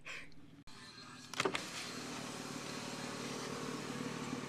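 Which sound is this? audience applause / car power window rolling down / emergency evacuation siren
car power window rolling down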